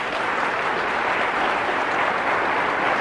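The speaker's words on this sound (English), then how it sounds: "Yeah, you can applaud." Steady, full applause from a large lecture audience, continuous clapping throughout with no voices on top.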